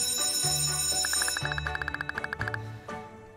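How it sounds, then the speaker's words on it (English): School bell ringing in the video game Kindergarten 2, a rapid run of bright metallic strikes that rises into steady rhythmic pulses over game music, loud and close, then fades. "The bell has rung."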